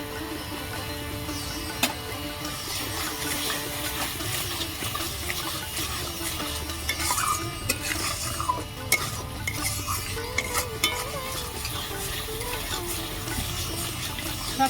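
Spices with slit green chili, sugar and salt being stirred and sautéed in a pan, a continuous sizzle and frying hiss with scraping stir sounds and occasional clinks, steady and close with no talk.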